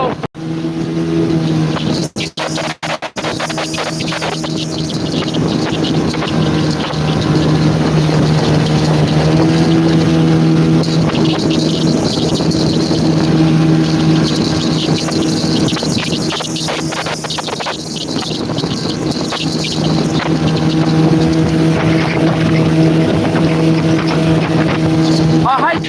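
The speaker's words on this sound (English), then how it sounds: "The motor keeps making a different sound as well." A boat motor drones steadily on a fishing trip, its pitch shifting slightly, loud and close under gusting wind noise, with a voice talking over it at times.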